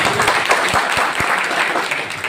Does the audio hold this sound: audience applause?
yes